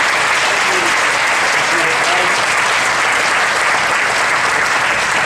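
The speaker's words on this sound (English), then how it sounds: "If you give Angel a great round of applause" Sustained, loud, even applause from a crowd gathered at a university ribbon-cutting ceremony, filling the whole stretch without pause or break.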